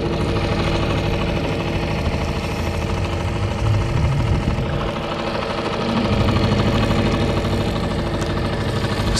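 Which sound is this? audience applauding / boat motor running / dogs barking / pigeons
boat motor running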